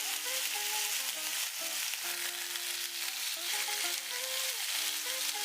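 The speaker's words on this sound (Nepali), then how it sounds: "यो तरिकाले हामीले माछा फ्राई गर्यो भने हामीलाई धेरै तेल खर्च हुँदैन र एकदमै थोरै तेलमा पनि माछा पाक्छ।" Fish fries in a little oil on a flat tawa, a close, steady sizzle and crackle with occasional stirring or shifting of the pieces, and nobody speaking.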